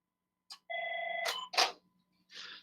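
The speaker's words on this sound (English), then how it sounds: "let me mute my phone here" A phone ringing during a lecture: a short electronic ring tone with steady tones, close and clear, between brief bursts of noise, with no talking.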